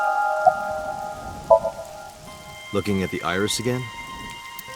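Steady rain patter from the video game AI: The Somnium Files plays throughout, with sustained musical tones and a short stretch of speech near the end.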